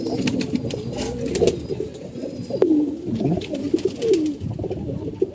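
A pigeon coos in low, rolling phrases close by, repeating every second or so over a steady murmur of other birds and light chirps in the background.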